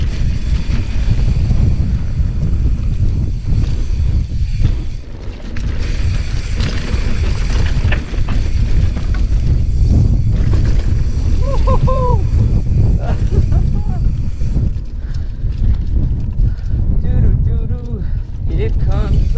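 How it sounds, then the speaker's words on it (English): Heavy wind buffets the microphone in a constant roar at a mountain bike drop in Santiago Oaks, with a person talking and singing over the gusts. "Damn, it is too windy to be jumping."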